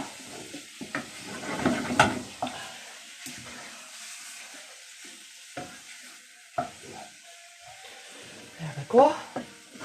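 Beef sizzles as it browns in a pan for a casserole, soft frying crackle broken by occasional stirring scrapes and clatters, while a person talks briefly.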